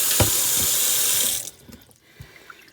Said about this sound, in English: I'm adding cool water to the pot in there.